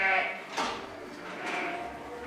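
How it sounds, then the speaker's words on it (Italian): Sheep on a farm in Roncofreddo, Romagna bleat before milking, with two or three close, wavering calls and a soft clatter. "Dai che stanno per mungere le pecore."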